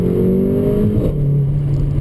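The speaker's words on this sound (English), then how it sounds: "we're gonna do a little video here of what it's like to drive a GLA 45 AMG" Mercedes GLA 45 AMG with a 2-liter four-cylinder and 7-speed dual clutch pulling hard while driving, the engine note climbing steadily and then dropping as it shifts, loud and close from inside the cabin.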